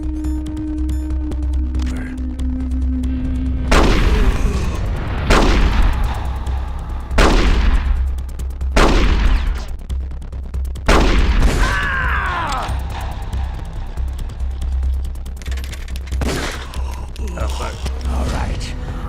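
Gunfire exchanged in a duel in the video game Metal Gear Solid: The Twin Snakes, with a series of sharp, loud shots spaced a second or two apart over a steady low rumble and tonal game background.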